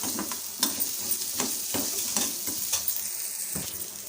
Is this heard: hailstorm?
no